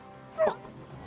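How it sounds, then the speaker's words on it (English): A single short dog bark or yelp in the medieval role-playing game Kingdom Come: Deliverance 2, one brief sharp burst in a quiet background. "Fucking dog."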